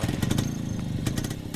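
A motorcycle engine runs nearby with a low, lumpy idle and a few throttle blips, loud and close with no voices over it.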